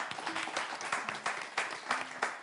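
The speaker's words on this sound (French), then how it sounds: "Applaudissez ici." Applause from a live comedy-show audience, a broad crackling wash of clapping that swells in several bursts, with a faint tonal sound underneath.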